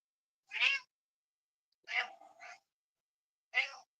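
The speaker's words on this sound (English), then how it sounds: "I guess my cat's very talkative." A house cat meows three times, loud and close, with the second call drawn out into two parts and short silences in between.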